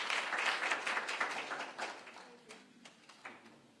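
Audience applause at a breakfast meeting with civil society in Nairobi, a dense burst of clapping that gradually thins into scattered claps over a few seconds, fairly faint and distant.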